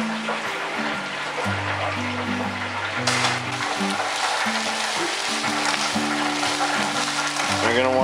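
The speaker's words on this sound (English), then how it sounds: "I put a little bit of oil in a wok, or a wok-like pan, and I heated it up, and I'm gonna stir fry my vegetables in it." Vegetables stir-fry in hot oil in a wok, giving a steady broadband sizzle throughout that sits under louder background music with a low, rhythmic tonal pattern.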